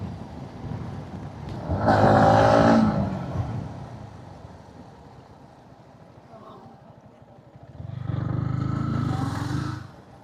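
Yamaha MT-15 motorcycle accelerating hard during a 0-100 test, with two loud engine surges, each rising and then fading, separated by a quieter idle-like stretch.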